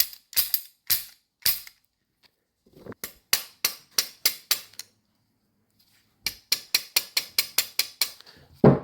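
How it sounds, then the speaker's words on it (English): Sharp metallic hammer taps realigning parts of an M1 carbine during disassembly, quick bursts of several blows with short pauses between, close and fairly loud with no talking. "Just hammering until the holes are lining back up."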